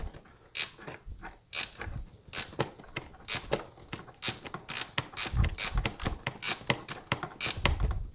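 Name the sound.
gear wrench ratcheting to start a nut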